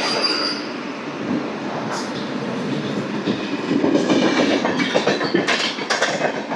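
A train headed for Howrah rushes past nearby, a loud continuous roar of wheels on rails with high screeching squeals and a quickening clatter that swells toward the end, with no talking over it.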